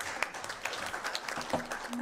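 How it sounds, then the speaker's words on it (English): Scattered applause from a conference audience, moderately quiet and somewhat uneven, with individual claps popping out of the crowd sound and faint murmuring voices underneath. "Another round of applause, please."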